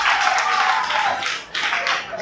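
Brief burst of audience applause for a student in a classroom, a dense patter of many hands clapping, dipping briefly before a second wave.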